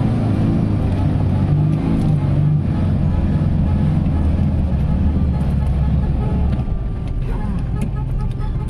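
Congested road traffic, a continuous low rumble of idling and moving engines close by, with no clear horn blasts standing out from the steady drone.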